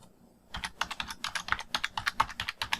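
Typing on a computer keyboard while entering a command in AutoCAD 2022: a rapid, close run of light key clicks after a brief quiet start, with no talking over it.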